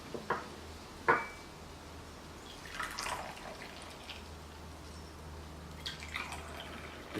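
Green tea pouring and spilling from an infinity brewer, with a few sharp drips and splashes at the start, then soft trickling bursts and splatters spaced out over a quiet background.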